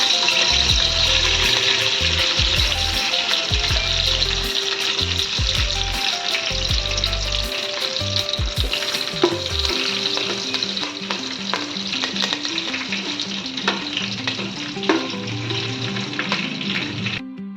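Whole spices and curry leaves hit hot oil for chicken pulao, a loud, dense sizzle up close with stirring scrapes and clatter, easing slightly toward the end; no one speaks.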